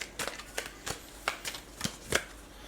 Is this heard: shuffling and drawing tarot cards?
yes